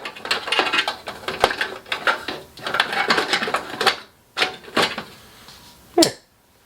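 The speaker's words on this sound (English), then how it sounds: "that was the CPUs clacking together" Computer CPUs clacking together while being handled, a string of close, sharp plastic-and-metal clicks and knocks in irregular bursts, with a louder clack near the end.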